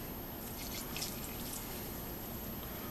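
Popcorn Sutton white whiskey poured into a small mason jar, a steady close liquid trickle with faint splashing that runs unbroken for a few seconds without speech.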